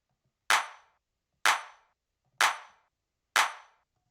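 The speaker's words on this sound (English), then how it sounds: "So there's this clap." Clap drum sample from a 90s house track, four sharp, dry claps struck evenly about one second apart, loud and isolated with quick decays and nothing else underneath.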